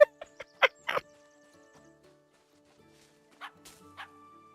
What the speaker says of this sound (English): I hear you barking, bud, but where are you?